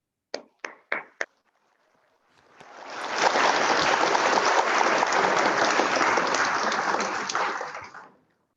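Delegates at a youth parliament general assembly break into sustained, dense applause after a resolution passes, preceded by a few sharp isolated claps. The clapping swells quickly, holds steady and loud for about five seconds, then fades out.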